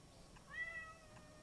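Emma, a pet cat, lets out a single soft, drawn-out meow in the middle, faint over a low steady background hum.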